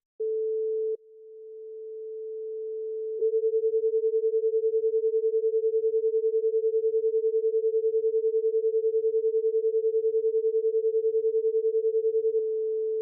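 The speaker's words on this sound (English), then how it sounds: "I'll change the frequency of the second oscillator to 450 Hz when we should hear 10 cycles per second of oscillation." Two electronic oscillators, one at 400 Hz and one at 450 Hz, sound together as a steady pure tone. After a short tone and a pause it settles into a continuous, rapidly pulsing beat, with no voices.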